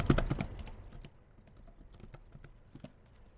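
A password is typed on a computer keyboard in a quick burst of clicky keystrokes, loud at first and then continuing as sparser, quieter taps, close and with no talking.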